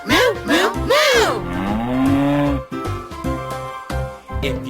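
Children at a school assembly imitate a cow mooing in a song, their voices drawing out rising and falling moos in a rhythmic chant, loud and close.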